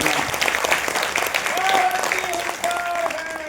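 Audience applause at a Hindi political rally about the constitution and people's power, a dense wash of clapping running steadily under cheers and a speaking voice throughout.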